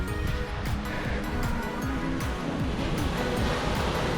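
Ocean waves wash onto a deserted Costa Rican beach at Playa Mantas. The surf rushes loudly and continuously, with a broad churning roar and no voices.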